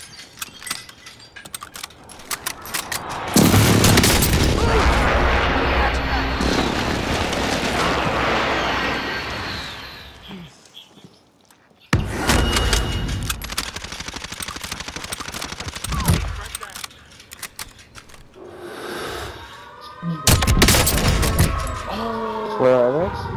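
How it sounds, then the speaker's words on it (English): Enemy precision airstrike explosions in Call of Duty: Rebirth rumble as long, loud blasts with crackling gunfire, a brief lull, then another heavy barrage and sharp bursts. "Enemy precision airstrike."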